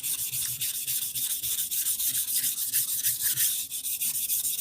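A Japanese kitchen knife being ground on a 220 grit whetstone to re-set its bevel, steady rhythmic rubbing strokes, close and moderately quiet, with no talking.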